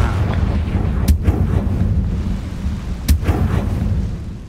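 A Confringo blasting spell explodes in Hogwarts Legacy, two loud booming blasts about two seconds apart, each a sharp crack followed by a rumbling roll, over a low continuous game ambience.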